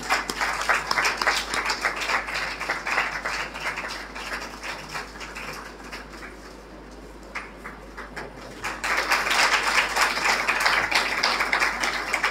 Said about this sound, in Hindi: तालियां बजाते रहे साथ साथ।